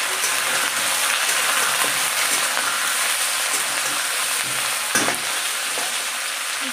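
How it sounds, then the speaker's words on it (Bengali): Potatoes and onions fry in a hot kadai, a dense, even, close sizzle that hisses steadily throughout, broken once by a brief clatter of stirring. "কড়াইটা বসিয়ে দিয়েছি, কড়াইটা বোধহয় গরমও হয়ে গেছে। আর দিয়ে দেবো আলু পেঁয়াজ।"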